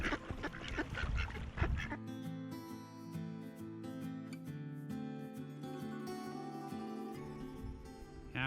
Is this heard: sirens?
no